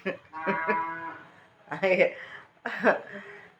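A cow lows in a few drawn-out, close moos with short gaps between them, mixed with a person's voice.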